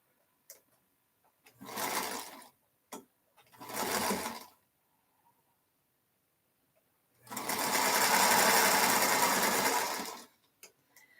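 Sewing machine stitching fabric in three bursts: two short whirring runs followed by a longer steady stitching run, with quiet pauses and small clicks between them.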